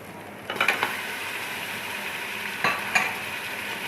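Mutton sizzles steadily in a hot pan, with a few sharp clatters of stirring near the start and again toward the end.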